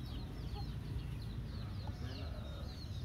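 Chickens cluck softly and repeatedly around a farmyard where chicks forage, the calls faint and scattered over steady low background noise.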